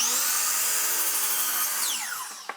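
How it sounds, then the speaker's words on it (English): A miter saw cuts through a wooden piece at a 10-degree angle, its loud, high whining blade screaming steadily through the wood before the pitch drops as it spins down, ending with a small knock. "We're gonna take this over to the miter saw, and we're gonna get a 10-degree cut on one side."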